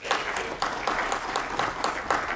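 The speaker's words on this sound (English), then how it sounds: "Give her a big round of applause." A crowd at a regional civic event applauds a city official, a dense, even patter of clapping with a few sharper accents recurring through it, sustained to the end.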